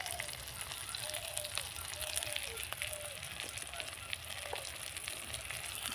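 Spices with turmeric powder frying in oil in a pan while cooking a ruli fish dish: a soft, steady sizzle with faint crackles and pops, fairly quiet and continuous.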